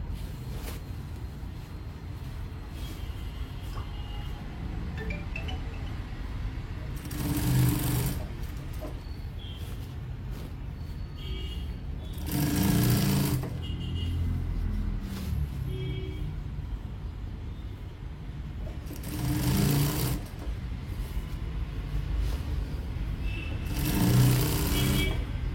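A sewing machine stitches a hem in lining fabric in short bursts of rapid mechanical whirring, about four runs separated by quieter pauses.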